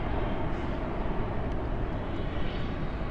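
A jet airliner rolling down the runway at Dallas/Fort Worth International at night with spoilers up and thrust reversers deployed, a steady broad roar filling the whole stretch at close range with no talk.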